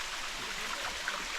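A small forest creek in Lamington's rugged ridge country flowing steadily, a constant soft rushing and trickling wash with no voices over it.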